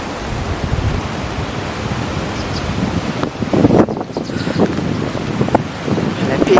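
Strong wind roars steadily through a garden under a linden tree, a dense broadband rush with gusts swelling midway; a voice murmurs briefly beneath it.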